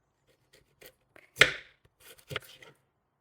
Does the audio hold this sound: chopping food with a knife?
yes